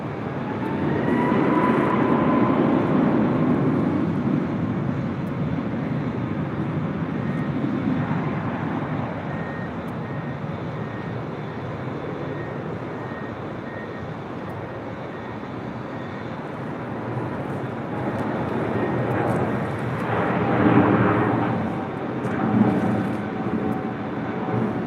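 An airliner takes off from runway 24 left at LAX, a broad, sustained engine roar heard from a distance that holds steady for the whole stretch, with no voices.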